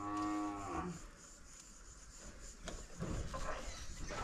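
One cow lets out a loud, drawn-out moo during a cattle vaccination day on a farm, followed by quieter knocks and scuffling from animals being handled nearby.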